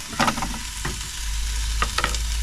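Chilli con carne being stirred in a frying pan, with a few soft scraping strokes of the spoon over a steady low sizzle of the cooking mince.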